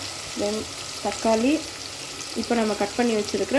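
Tomato, beans and carrot fry in a pan with a steady, moderate sizzle, partly overlaid by intermittent voiced, tonal sounds.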